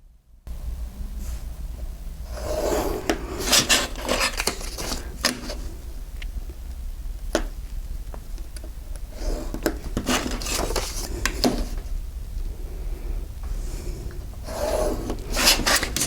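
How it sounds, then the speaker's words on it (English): Paper tabs are scored, folded and rubbed flat with a bone folder for a junk journal mini folio, giving bursts of scraping and rubbing strokes with a few sharp creasing taps, close and steady with no talking. "So I'm going to score them, fold them, and then I'm going to go over them with a bone folder."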